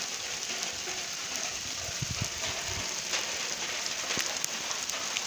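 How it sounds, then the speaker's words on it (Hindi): Steady rain pours in a village during a stormy downpour, a dense, even hiss broken by scattered sharper drops and a few heavier splashes close by, with no voices. "आवाज़ें देखें, बारिश शुरू हो चुकी है।"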